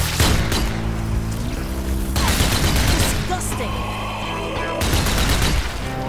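Sustained automatic gunfire with unlimited ammo in the zombie shooter game Zombie Army 4 on hard mode, loud rapid bursts with booming impacts running almost without pause across the whole stretch.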